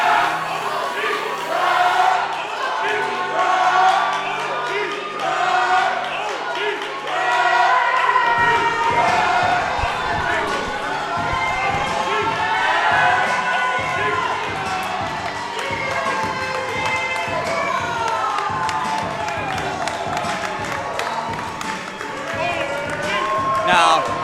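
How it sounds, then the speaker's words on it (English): A capacity crowd at a Raeford, North Carolina pro wrestling show gives a standing ovation to the OG Tribe, with loud, sustained cheering, shouts and clapping that fill the room while a commentator talks over them. "the standing ovation the OG Tribe is getting here in Raeford, North Carolina"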